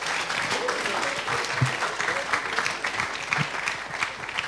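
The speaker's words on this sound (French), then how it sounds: "Je pense qu'on peut applaudir cette présentation" An audience applauds after a conference presentation on digital health, with continuous dense clapping filling the room and faint crowd voices mixed in.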